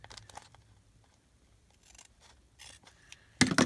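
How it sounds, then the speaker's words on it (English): Teresa Collins scissors snipping paper for a junk journal page: a few faint, scattered cuts in a quiet room, ending in a sharper, louder snip. "Teresa Collins scissors"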